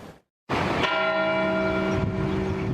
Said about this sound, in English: Bells ringing at the Cathedral of the Holy Cross